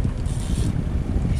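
A fishing reel winds in a cubera snapper on a river, a brief, close mechanical whirring churn over wind and outdoor noise.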